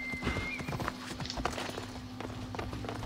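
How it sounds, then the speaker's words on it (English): Horse hooves in Assassin's Creed Odyssey, a rapid clip-clop of steady footfalls close by with a brief whinny-like tone, alone without talk. "Come back here, stupid horse."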